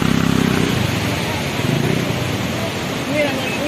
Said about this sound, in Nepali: बाइक यहाँ बाइक